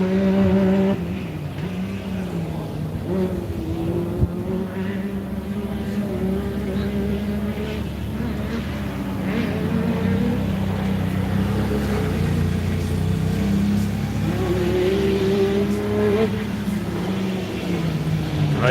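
A Yamaha race vehicle driven hard and sliding sideways, its engine roaring steadily with rising and falling revs throughout, loud and close with no pauses.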